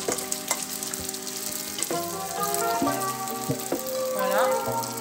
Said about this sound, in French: Alors maintenant on va verser le bourgoule